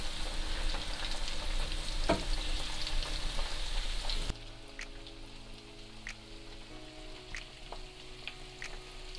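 Garlicky coated shrimp deep frying in a final batch, a loud steady oil sizzle like heavy rain that drops to a quieter crackle with faint tones partway through, no talk.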